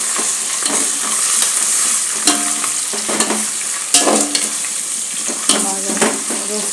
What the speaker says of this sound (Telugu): అల్లం వెల్లుల్లి పేస్ట్ వేసేస్తానండి.